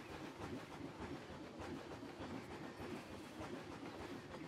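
A train rolls along its rails around the upper lake of an alpine mountain theme park in Planet Coaster, a steady, dense rumble with faint rhythmic clatter running unbroken and fairly loud, with no voices.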